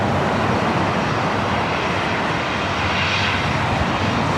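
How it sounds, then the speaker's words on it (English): A Southwest Airlines Boeing 737-700 arriving from Oakland at LAX roars as a steady, loud broadband jet rumble, holding constant and close throughout with no voices. "That was Southwest Airlines Flight 2652 coming in from Oakland"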